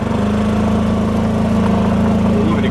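A jacked-up Club Car gas golf cart's governed engine runs wide open at full throttle, a loud, close, steady buzzing drone with an even pulsing beat and no talk.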